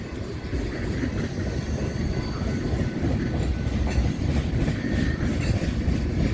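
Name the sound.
freight train passing on Norfolk Southern line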